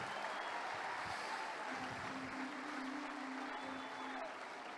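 A church congregation at a growth conference applauds continuously, a soft, steady clapping that sounds somewhat distant and holds evenly for several seconds.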